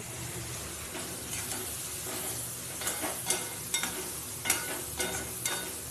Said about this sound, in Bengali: এই জলটা দিয়ে পুরো কষিয়ে নেব